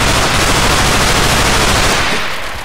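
Sustained automatic gunfire in the video game Underhell, a dense continuous rattle of rapid shots filling the whole stretch at loud, close range before easing slightly at the end.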